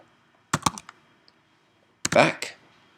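Short bursts of computer keyboard typing, a quick cluster of keystrokes, a pause, then a denser flurry of taps, close and clear in a quiet room.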